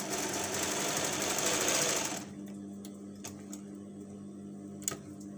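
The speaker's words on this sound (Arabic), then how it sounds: "نتكى عليه بالخياطة يعني نحكمه بالخياطة" A sewing machine stitches decorative trim (galon) onto fabric, running steadily and loud for about two seconds and then stopping, leaving a faint hum with a few small clicks.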